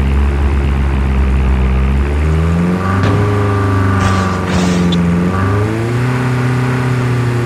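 A propeller airdrop plane in Call of Duty Mobile drones loudly overhead. Its steady engine tone rises and falls in pitch as it passes, with a couple of brief sharp in-game sounds layered on top.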